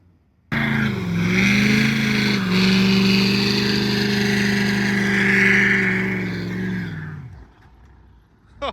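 A Chevy truck engine revs hard in a snowy parking lot, a loud, close, sustained roar that climbs and holds for several seconds before cutting off abruptly.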